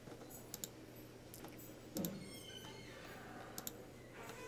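Someone typing on a computer keyboard in a classroom setting, faint scattered key clicks in small bursts with a louder thump partway through, over a low room hum.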